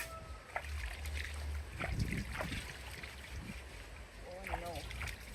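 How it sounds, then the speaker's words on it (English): Water sloshing and splashing as an item is rinsed outdoors in a village after being scrubbed with sand, with uneven pours and a brief soft knock, and a few background noises. "Let me rinse it."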